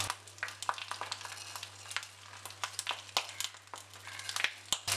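Mackerel wrapped in banana leaf cooking in a hot pan without oil, turned over, giving a steady soft sizzle with crinkling leaf rustles and scattered crisp clicks over a constant low hum, close and fairly quiet.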